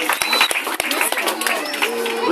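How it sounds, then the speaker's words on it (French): A classroom of pupils claps for a student, with brisk, uneven clapping mixed with chatter and voices. Several sharp individual claps stand out near the start. "Acclamez, applaudissez pour l'élève."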